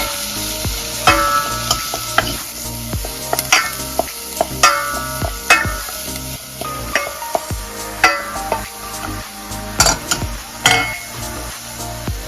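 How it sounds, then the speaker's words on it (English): Curry powder is stirred in a pan with a low sizzle under repeated scraping and knocking strokes of a utensil against the metal, irregular and close, with occasional bright clinks; no voices. "Let's give this a good stir."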